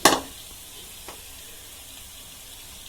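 A spoon stirs vada curry in a hot pan, a sharp scrape and splash at the start, then a soft continuous sizzle with a faint tap partway through.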